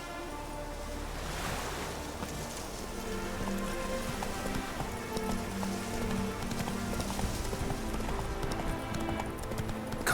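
Roach, the horse in The Witcher 3, gallops with steady rhythmic hoofbeats over a continuous wash of game ambience and music, moderately loud and close.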